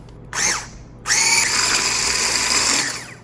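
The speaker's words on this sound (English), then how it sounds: "Now I'm gonna whisk all of this until it's smooth." A motorized whisk churns homemade pumpkin pie filling, with a brief whir followed by a longer, steady, loud buzzing run that stops near the end. No one speaks.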